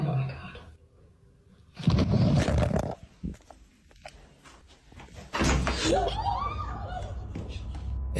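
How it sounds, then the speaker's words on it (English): A doorknob turns and a door is yanked hard in a house at night, a sudden loud rattling thump followed by quieter movement and another burst of noise. "someone seems to turn the doorknob and yank the door."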